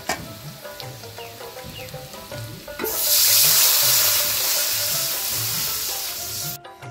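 Water poured into a hot pan of reddened fried onions in mustard oil: a soft sizzle first, then a loud rushing hiss that holds for several seconds before cutting off.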